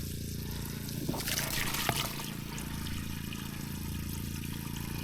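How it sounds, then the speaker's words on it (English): Water trickles and splashes softly from a pipe at a cabin septic system, barely flowing, with a brief burst of pouring in the middle and a steady low hum beneath. "See how the water's like barely flowing?"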